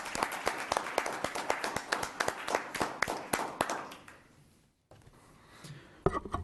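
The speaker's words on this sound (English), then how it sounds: "If we would like to give him a round of applause." A small group clapping at a town council meeting, individual claps clearly separated in a quick rhythm that thins out and stops, followed by a brief quiet gap and faint room noise.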